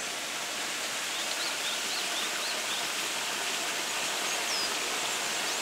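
A forest stream in Koyasan, Japan, rushing in a steady broadband wash of flowing water that stays even throughout, with faint birds chirping in the background and no talk.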